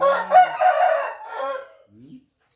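A rooster in a rural Thai village in the morning lets out one loud, close, drawn-out crow lasting nearly two seconds, followed by a brief low cluck and then silence.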